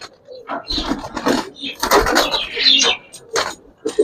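Pigeons, including Gribaz and coloured fancy breeds, coo and flutter among cages at a pigeon sale, with someone talking over the birds in short bursts nearby.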